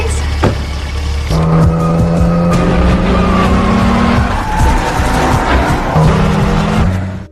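Film car chase with a getaway car fleeing pursuers: loud revving engines with sustained tire squeals and skidding throughout, dense and close, no talk.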